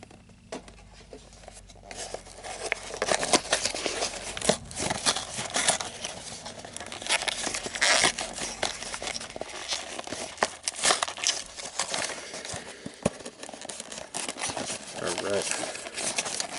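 A D&D Minotaur miniatures booster pack is torn open, with busy crinkling and tearing of plastic and packaging, close and continuous with sharp crackles, under a speaking voice and faint noise from next door.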